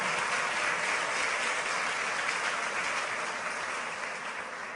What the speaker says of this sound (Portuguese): Vamos agradecer a Jesus por isso com uma forte salva de palmas